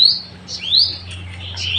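Birds chirp in Palawan, their short rising tweets repeating in quick bursts over a steady low background hum, with no voices.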